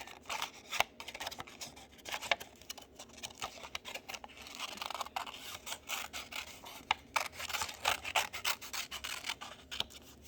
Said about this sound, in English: So all I'm going to do now is I'm going to cut out this shape.